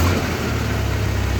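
Car engine running just after being started, troubleshooting for misfires: a steady mid-pitched idle hum with a low drone, fairly close and unbroken, without any voices.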